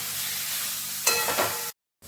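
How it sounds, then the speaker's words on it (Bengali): Potatoes tossed into a spiced masala in a pan, a loud, close, steady sizzle with a brief burst of stirring and clatter midway, then a short cut to silence before the sizzle resumes; no talking. "এবারে দিয়ে দেবো আলু। 2-3 মিনিট নাড়াচাড়া করে নিতে হবে।"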